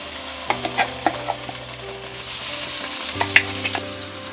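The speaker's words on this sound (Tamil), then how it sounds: "இந்த மசாலையை சேர்த்திட்டு இதை நல்லா ஒரு அஞ்சு நிமிஷத்துக்கு வதக்கி விடுங்க" Masala paste sautéing in oil for a Tamil sardine curry (mathi meen kulambu), a steady close sizzle broken by spoon scrapes and stirring clatters against the pan, with no talk.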